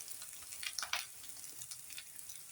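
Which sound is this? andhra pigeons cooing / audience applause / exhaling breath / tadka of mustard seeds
tadka of mustard seeds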